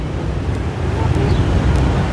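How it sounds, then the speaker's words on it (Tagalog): Steady outdoor wind blowing in a broadband rush at a breezy spot, constant and fairly loud from start to finish, with no clear talk over it. "Oo, mahangin dito kaysa doon"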